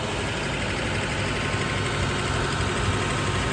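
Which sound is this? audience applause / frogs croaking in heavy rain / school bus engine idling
school bus engine idling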